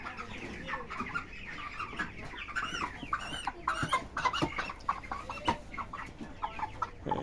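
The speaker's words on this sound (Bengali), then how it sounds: "একটা বড় দেখে একটা মুরগি ধরে নিয়ে এসেছে" A large farm chicken clucks and squawks repeatedly in agitated bursts while it is caught and handled for weighing, close up with scuffling and rustling between calls.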